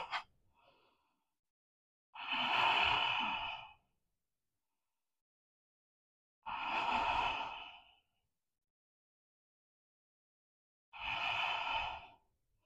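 Three slow, audible breaths taken in an Ashtanga forward bend, each a strong airy exhale lasting over a second, evenly spaced by several seconds of silence, close to the listener.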